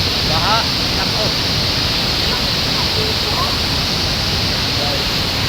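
Floodwater after a typhoon rushes through a forest, a loud, steady, broadband roar close by with faint voices barely showing beneath it.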